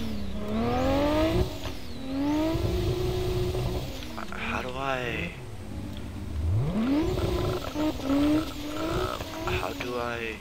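Car engine revving and rising in pitch in a Roblox drifting game, a right-hand drive car, with engine tones sweeping up and down throughout, loud and close, under steady talk.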